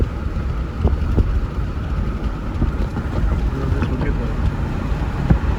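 Steady wind roaring and buffeting a microphone outdoors at Lake Lanier, Georgia, continuous and fairly loud, with faint water and engine rumble underneath.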